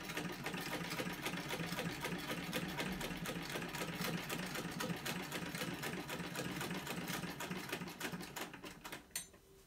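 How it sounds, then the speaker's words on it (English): A vintage sewing machine stitching paper zines runs in a fast, steady mechanical rhythm of clattering needle strokes and motor whir, close and alone, slowing and stopping with a small metallic click at the end. "So sewing these zines on my vintage sewing machine"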